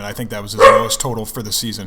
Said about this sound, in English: Sorry, folks, that's my dog.